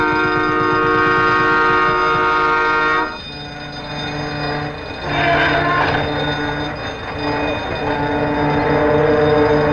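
A 1954 passenger train pulls into a snowy small-town station on a line near Smiths Falls, its loud sustained horn chord sounding, breaking off, then resuming over the rumble and clatter of the cars.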